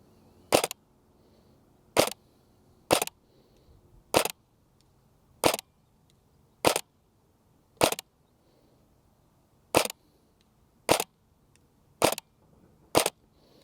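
A Cyma CM.041J MP5A3 airsoft replica fires single BBs, making sharp, close snapping cracks at roughly one-second intervals, about eleven shots with a short gap midway and quiet between them.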